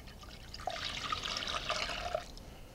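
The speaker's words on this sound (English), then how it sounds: "place the sugar and pour the vinegar" Vinegar poured from a container into a saucepan holding sugar, a steady splashing trickle lasting about a second and a half, close and clear with no talking.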